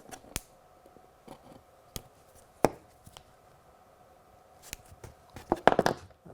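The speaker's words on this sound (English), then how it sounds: "not just snip through it, but remove part of the cable" Cutters snipping through model railway cable, sharp isolated clicks spaced a second or so apart, then a quicker cluster of snips near the end, close and quiet in a still room.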